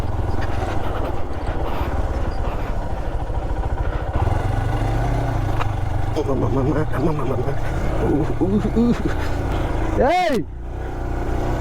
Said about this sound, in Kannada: ಯಾಕೋ ಗಾಡಿ ಆಫ್ ಮಾಡು ಫಸ್ಟು